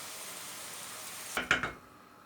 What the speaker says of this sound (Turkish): Şimdi bunun üzerine örtecek şekilde su koyuyoruz.